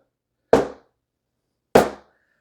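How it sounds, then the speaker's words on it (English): A rubber mallet knocks a shelf into place with two solid, separate taps about a second apart, each a close, dull thud that dies away quickly in an otherwise quiet room. "that's when the rubber mallet comes in handy to make sure everything's"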